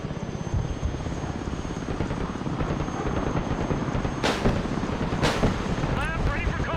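Military helicopters in the Broken Arrow war game, a steady rotor thrum under someone talking, with two sharp blasts of gunfire or explosions near the end.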